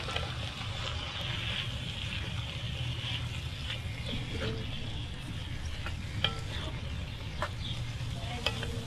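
Olives, garlic, corn and tomatoes are stirred together in a Dutch oven over campfire coals, giving a steady soft sizzle and low bubbling with occasional light scrapes and clinks of a spoon.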